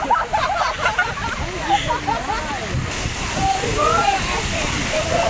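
Outdoor water fountains splash and gush continuously beside a winter garden, a steady wash of falling water with overlapping voices chattering in the background.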